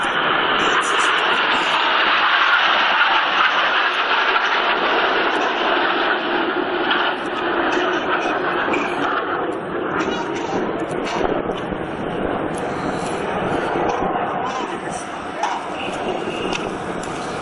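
Jets flying in formation at the New York Air Show at Stewart International Airport, a loud sustained roar with a broad whooshing rush that slowly fades and shifts, mixed with wind buffeting.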